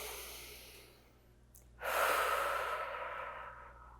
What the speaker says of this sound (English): let's take one more deep breath together here